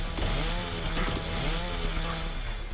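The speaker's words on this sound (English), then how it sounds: "Chainsaw on." A revving chainsaw in a video game, droning loudly and steadily throughout with a dense buzzing roar that barely varies in level.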